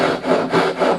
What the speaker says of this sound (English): so you know you're sawing them in exactly the right spot.